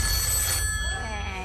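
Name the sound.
telephone ringing on game show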